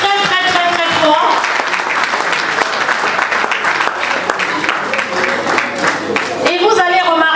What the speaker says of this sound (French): que je vous prie d'applaudir très très très très fort